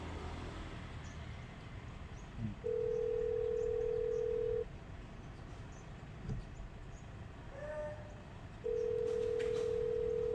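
A phone call rings out unanswered: two long electronic ringback tones, each about two seconds, separated by a pause, over faint background room noise.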